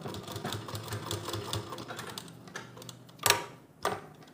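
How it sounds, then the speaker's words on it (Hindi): A sewing machine stitches fabric for a circular palazzo with elastic, a rapid even clatter of the needle running close by, then slowing into a few louder separate clunks. "उसके बाद आपको यहाँ से मशीन को ऐसे उठाना है और यहाँ पर एक सिलाई लगानी है"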